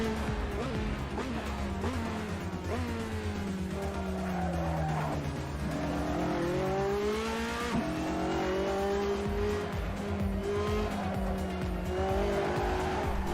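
Race car tires sliding sideways and squealing in the Assetto Corsa driving game, a sustained wavering screech over a loud revving engine with shifting pitch, continuous and close throughout.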